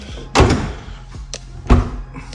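A car door is closed during body work in a garage, giving two solid slams a little over a second apart, each with a sharp thud and rattle, plus a lighter knock between them.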